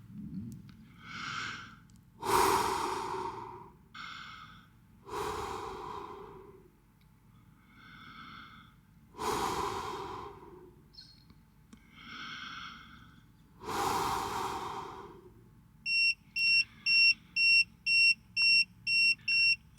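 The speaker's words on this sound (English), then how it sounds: "I'm going to breathe on it and see if it makes a difference" A person breathes out several long, slow breaths onto an Inkbird Plus CO2 monitor up close, each exhale a soft whooshing sigh with pauses between, followed by a rapid run of about eight short electronic alarm beeps.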